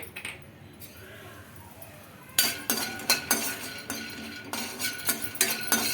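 Peanuts being tipped into a kadai, a quiet lead-in followed by a burst of small hard clinks and rattles against the metal pan, close up, with brief faint speech in the background.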